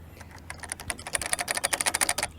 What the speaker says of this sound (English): to me it's a lovely keyboard sound